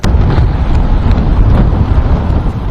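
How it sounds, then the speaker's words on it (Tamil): Strong cyclone wind roars steadily across the mic at Pattinapakkam beach in Chennai during Cyclone Fengal, a loud continuous buffeting rumble with no voices. "சென்னை பட்டினப்பாக்கம் கடற்கரை பகுதியில் காற்று அதிகமாக வீசக்கூடிய அந்த காட்சிகளை பார்க்கிறோம்"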